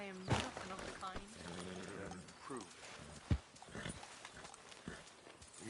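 Horse hooves clip-clop in Red Dead Redemption 2, a scattered run of hoof hits with one louder thud, mixed under game voices talking throughout.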